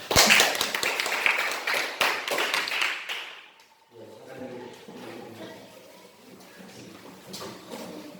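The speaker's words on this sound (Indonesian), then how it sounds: "berikan aplaus untuk kelompok 2" A group of people claps in applause for a presenting team in a classroom setting, with loud, dense clapping for about three seconds that fades out before voices talk quietly in the room.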